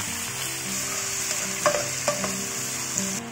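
Squid, shrimp and mushrooms hit hot oil with ginger, garlic and onion in a wok, giving a steady close sizzle, with a few sharp clinks and scrapes of a spatula stirring near the middle and end.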